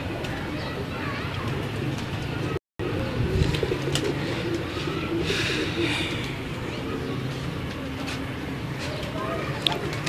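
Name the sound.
pigeons cooing on a rooftop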